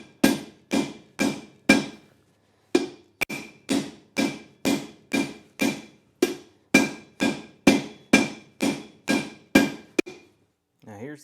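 Hot steel is hammered over a hot-cut hardy set in an anvil, about twenty loud ringing blows in steady rhythm with a short pause partway through, all close to the listener.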